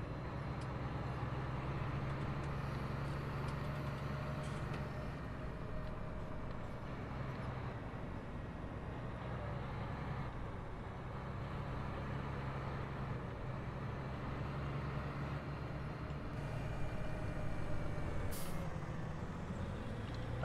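A tractor or truck drives steadily in Farming Simulator 2019, its low engine drone continuous and even throughout, with a brief air-brake-like hiss near the end.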